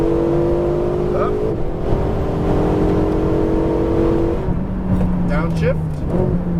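A Ferrari 488 GTB on a race track, its engine droning loud and steady from inside the car, then dropping in pitch and climbing again as throttle returns, with a coach talking over it.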